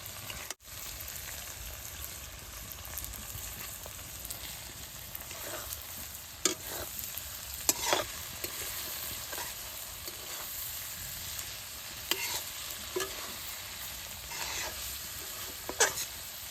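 Banana stem pickle stirred in a frying pan, a steady soft sizzle of hot oil with scattered scraping clicks of the spoon against the pan, continuous and close, with no voices.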